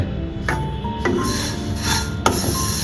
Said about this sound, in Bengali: এভাবে একদম ব্রাউন হওয়া পর্যন্ত রোস্ট করে নিতে হবে